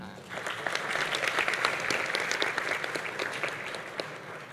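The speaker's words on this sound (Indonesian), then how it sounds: "Mohon tepuk tangan." A room full of people claps steadily for a few seconds, a dense patter of hands without cheering.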